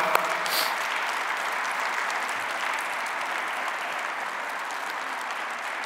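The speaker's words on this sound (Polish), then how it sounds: "Jeśli mogę prosić o wielkie brawa." Sustained applause fills a congress hall as a large audience claps steadily for several seconds, with no talking over it.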